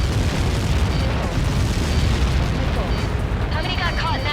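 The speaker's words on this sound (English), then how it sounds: "How many got caught in that explosion?" A massive missile-impact explosion in the jet combat video game Ace Combat 7: Skies Unknown, a loud sustained roaring rumble that fills the whole clip, with faint radio chatter over it.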